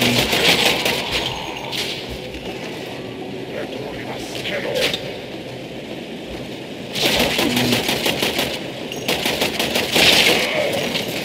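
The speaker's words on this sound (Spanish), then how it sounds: "me están disparando por allá" Gunfire aimed at the player in the Warframe video game, several sustained bursts of rapid shots over a busy game soundscape, with a voice talking intermittently between them.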